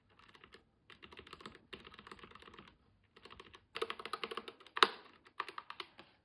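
Someone types on a GK61 keyboard with optical yellow switches, producing quick bursts of light, crisp keystroke clicks in uneven runs with short pauses, close and fairly quiet, with one sharper loud clack near the end.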